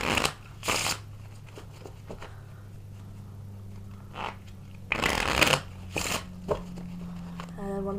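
A deck of playing cards is cut and shuffled in quick, crisp riffling bursts separated by pauses, close and fairly quiet, with a soft voice in the background.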